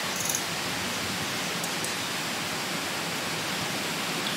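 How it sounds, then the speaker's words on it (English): An AI-generated forest brook gives a steady, dense wash of babbling water with faint rustle of leaves, running unbroken and fairly soft with no voices over it. "This is the soft, soothing sounds of a babbling brook winding through a peaceful forest with birds chirping and leaves rustling in the breeze."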